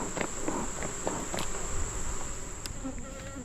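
Honey bees buzz around an open hive in a dense, steady hum, with a few faint handling taps and rustles mixed in nearby.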